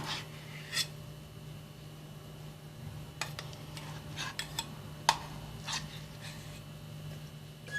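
A spoon scraping and tapping against a pot or bowl while butter is worked into mashed potatoes, with scattered sharp clinks and soft scrapes at irregular intervals over a faint steady background hum.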